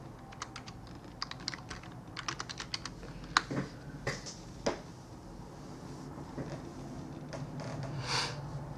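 Computer keyboard typing at close range, a quick run of light key taps and clicks that thins into occasional louder strokes, then gives way to quiet room noise with a soft click near the end.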